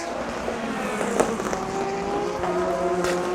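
Race car engines at the Le Mans 24 Hours drone and whine nearby with shifting pitches, one rising tone over a busy mechanical roar, no speech.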